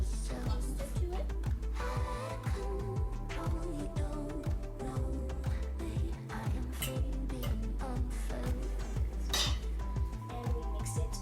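Pasta being stirred into baked feta cheese in a baking dish, producing a dense, continuous run of clinks and scrapes of a utensil against the dish, with a steady low hum underneath throughout.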